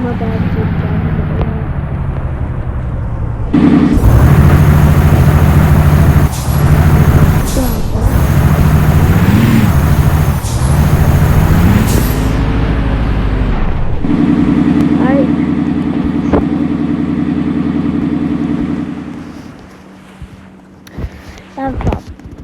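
An old truck engine idles at a low rumble, then revs up loudly in several surges before settling back and cutting off near the end. A person talks over it at times.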